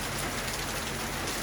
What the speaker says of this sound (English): there is always something beautiful about watching the rain and listening to it fall